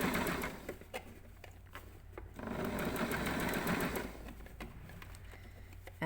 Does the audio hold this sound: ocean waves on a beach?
no